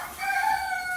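A rooster crows in a breeding pen of purebred hens, one clear, drawn-out call close by, with no talk.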